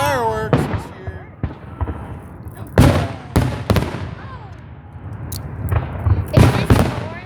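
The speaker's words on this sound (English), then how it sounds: "Pretty cool fireworks this year." Festive fireworks explode with repeated loud cracks and booms at uneven intervals, fairly close, while people talk and exclaim between the blasts.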